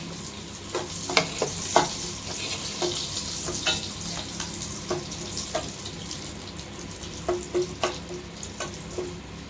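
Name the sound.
ghee frying and being stirred in a pan for aloo biryani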